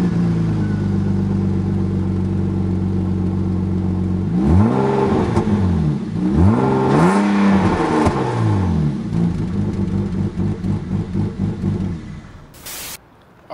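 A BMW E36 exhaust on its stock setup before a cat-back install, idling loudly and then revved twice in rising and falling bursts before settling back to idle up close.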